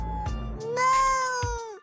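A domestic cat meows loudly and close, one long drawn-out rising-and-falling cry with a few shorter vocal bursts, heard alone without talk.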